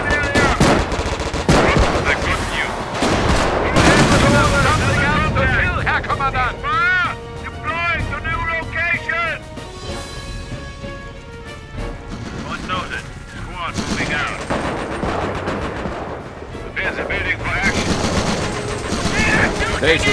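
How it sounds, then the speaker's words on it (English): Dense, loud gunfire and machine-gun bursts from the World War II strategy game Company of Heroes, a Panzer Elite 3 vs 3 match, crackle continuously with explosions and game voice announcements over the battle. "Base is under enemy fire."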